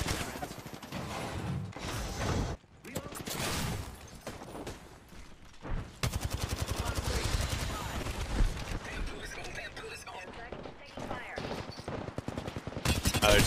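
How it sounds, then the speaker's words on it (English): Rapid automatic gunfire from an opposing squad in the shooter game Apex Legends, made up of dense bursts and fusillades that repeat across the clip, with a short gap near the middle, some near and some farther off. "Other team shooting them."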